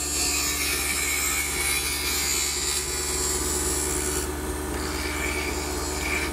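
A lathe turning tool cuts a wooden honey dipper blank with a freshly sharpened edge, giving a steady, loud scraping hiss that runs continuously over the spinning workpiece with no voices.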